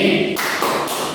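In a primary school classroom, children join in the tepuk semangat clapping chant, sounding a run of three sharp, close hand claps in a steady rhythm, with a faint voice at the very start.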